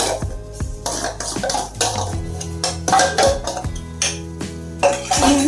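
Moong dal added and mixed with besan in a bowl for moong dal kachori, with clinking and scraping of a spoon against the dish in an irregular, close rhythm.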